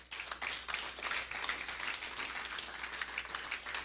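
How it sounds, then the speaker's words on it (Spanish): A church congregation claps in praise for Christ during a sermon, a fairly faint but continuous patter of many hands that holds steady throughout. "Dale palmas a Cristo."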